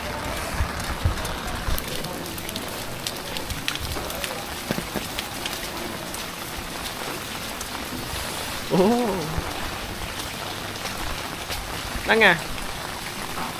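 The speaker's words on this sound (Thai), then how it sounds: "ฝนก็ตกอย่างนี้ตลอดเวลา" Heavy rain pours steadily on a wet day in Vietnam, making a dense, constant hiss, with a voice briefly exclaiming now and then.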